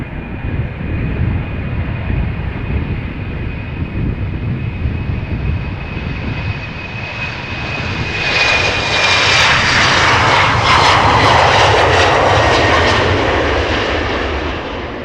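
An Embraer jet taxiing at Amsterdam Schiphol on its way to Trondheim gives off a steady engine hum with a thin whine, then swells into a louder, brighter roar as it passes close, unaccompanied by voices.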